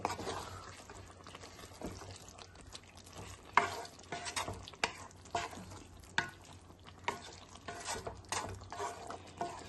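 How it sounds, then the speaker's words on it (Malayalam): A pan of chicken curry is stirred, giving soft, quiet scrapes and clacks at irregular intervals over a low simmering hiss, heard close with no talking. "ഒന്ന് ഇളക്കി കൊടുക്കാം"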